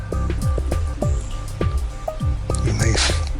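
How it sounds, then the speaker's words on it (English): Drops of water fall and plink in an irregular, close rhythm, several distinct drips and splats, set down as rain falling on a roof. "you may hear the raindrops on the roof"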